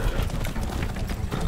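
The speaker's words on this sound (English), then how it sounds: "We gotta ride the horse" Horse hooves clip-clop steadily at a ride in the Far Cry 6 video game, a continuous dense trot under low rumbling game sound with a faint voice now and then.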